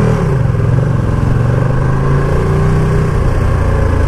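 A 2020 Ducati Panigale V2 engine drones continuously while riding on UK roads. The close, loud mechanical rumble holds steady with a slight pitch drift and wind noise throughout.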